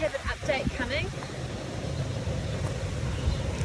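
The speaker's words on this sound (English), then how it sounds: "So come and listen to the engine. The engine's on right now" A Nissan Elgrand engine idles with a steady, low, even rumble. A voice talks briefly over it at the start, and the engine then carries on alone.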